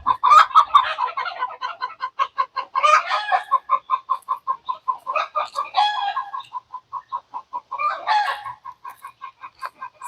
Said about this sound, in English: Uh oh, the egg song has begun.